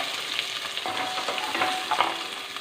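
Chopped onion and green chillies sauté in a pan over garlic for a quick curry, giving a steady close sizzle with soft stirring scrapes throughout.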